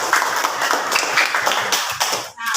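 Classroom of students clapping together after a correct answer, a brisk burst of many hands at close range, steady and fairly loud before breaking off near the end.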